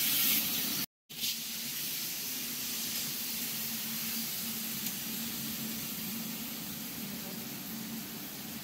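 Water poured into a pan of sizzling, well-fried masala while making a thin bata fish gravy, a steady broadband hiss and sizzle that runs throughout after a brief dropout near the start.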